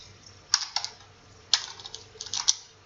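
Keys clatter on a computer keyboard as a date is typed into accounting ledger software, coming in three short bursts of clicks about a second apart, faint and close, with no talking.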